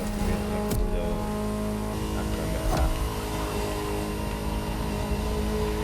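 A Ferrari supercar engine in The Crew Motorfest drones steadily and loudly throughout, with a constant harmonic hum and a couple of brief sharp bumps, no talk over it.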